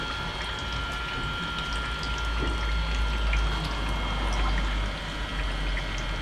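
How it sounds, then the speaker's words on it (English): Water pours steadily from a motorhome's external shower, a continuous hissing splash close by, swelling slightly in the middle. "That's what you call an external shower."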